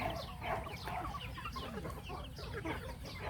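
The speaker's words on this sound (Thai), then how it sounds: "นี่ไก่" A Burmese fighting chicken clucks in short, repeated bursts against a steady low background hum, with no voices.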